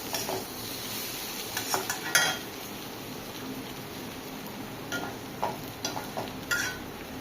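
Fried jackfruit is scraped from a pan onto a plate, with soft scattered clinks of a utensil against metal and a faint steady sizzle underneath, fairly quiet and close.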